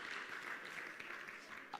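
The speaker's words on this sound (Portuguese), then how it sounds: "Podem bater palmas, merece." An audience bursts into steady, dense applause at a talk on laughter and humour, a continuous wash of many hands clapping at moderate loudness for a couple of seconds.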